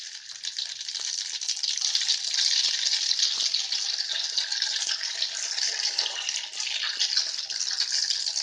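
Rice seeds sizzle in heated oil while chana dry masala is cooked, giving a steady, bright crackling hiss that stays fairly loud throughout with no talk over it.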